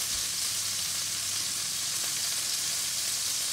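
Pork tenderloin sizzles steadily in a hot pan as it is stirred until brown, a close, continuous bright frying hiss with no voices over it.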